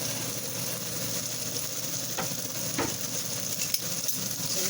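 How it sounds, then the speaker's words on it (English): Onion frying in oil in a cast iron pan for bistek gives a continuous, even sizzle with a couple of faint scrapes of stirring. "Then what we're gonna do is we're gonna cook our onion"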